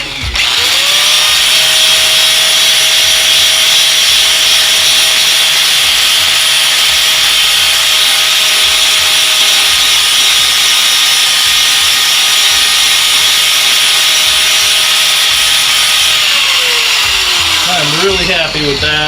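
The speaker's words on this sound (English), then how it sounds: "This is a flap wheel" An angle grinder fitted with a flap wheel grinds metal in a steady, loud, high whine that holds for about fifteen seconds before spinning down at the end.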